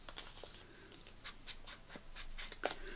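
A pen inks around the folded paper flaps of a handmade ideas book, producing faint, soft scratchy strokes in short repeated bursts, close by and quiet.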